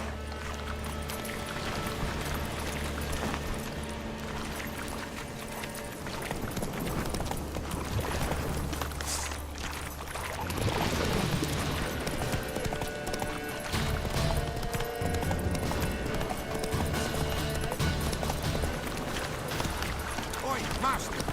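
Horse galloping in The Witcher 3, a rapid, steady clip-clop of hooves running throughout, with game voices talking over it and a shift in the hoofbeat rhythm partway through.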